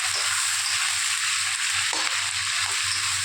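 Thickly cut onions sizzling steadily in a hot pan, a continuous bright frying hiss with occasional soft scrapes of stirring, close and alone without any talking.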